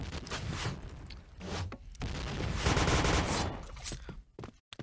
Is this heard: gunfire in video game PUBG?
yes